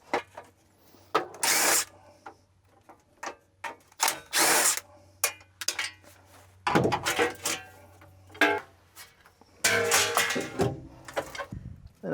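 Impact driver bursts remove screws on a Ford loader, loud and close, several short whirring rattles separated by quiet gaps and lighter metallic handling noises.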